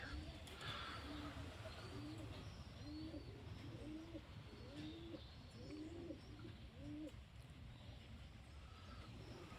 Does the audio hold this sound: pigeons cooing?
yes